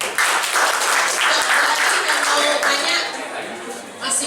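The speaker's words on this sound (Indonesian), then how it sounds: "Kasih tepuk tangan dong." An audience at a live Q&A event applauds, a dense, steady crowd clapping held at even loudness for a few seconds before it starts to fade.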